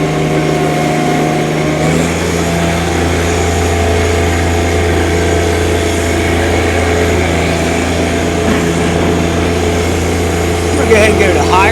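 A 2023 John Deere 1025R compact cab tractor's engine runs steadily throughout as it backs up in two-wheel low range, with a constant low drone that is loud and close.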